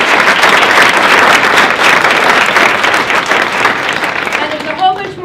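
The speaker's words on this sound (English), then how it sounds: "Let's give them a round of applause." An audience at a Black History Month event applauds in a steady, full wash of many hands that gradually eases off near the end, when a speaking voice comes back in.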